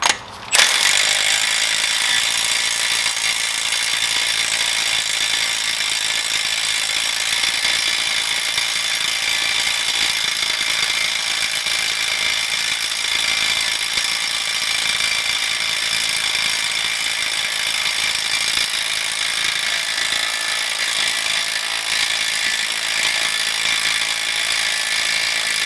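A battery-powered tool runs on the front wheel axle of a 2015–2020 Ford Fusion during a wheel bearing job, starting with a sharp burst and then holding a loud, continuous mechanical whir and rattle for about twenty-five seconds, close by, with no talking.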